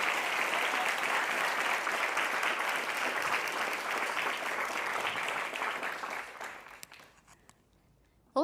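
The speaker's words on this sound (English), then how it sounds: "Give her a rock star round of applause for Geetika, please." Audience at a morning creative talk event in New York claps loudly and steadily for several seconds, the applause thinning out and fading toward the end before a sudden sound right at the close.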